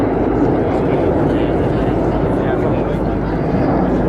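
Red Arrows jets passing in arrow formation at the RAF 100 Cosford Air Show 2018 make a loud, steady broadband roar that fills the whole moment without letting up.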